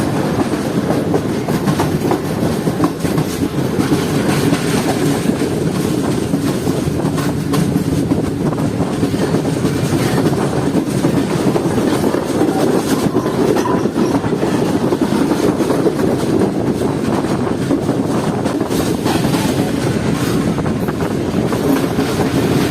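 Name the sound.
Sir Syed Express train running on rails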